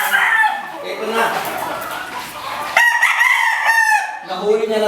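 A black and white gamecock crows loudly and close, two drawn-out calls back to back with clucking, while someone talks over it.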